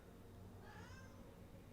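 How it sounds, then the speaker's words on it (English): A pet cat meows outside a closed bedroom door, one drawn-out plaintive meow, faint and distant over a low steady background hum. "Can you guys hear my cat meow? She wants into the bedroom."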